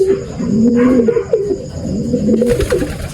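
A pigeon coos close by, a few soft throaty rolling calls, with faint rustling behind.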